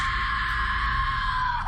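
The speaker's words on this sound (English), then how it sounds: "she screams." A girl in a Berry Avenue horror story lets out a loud, sustained scream of terror that holds steady for nearly two seconds, with nothing else heard.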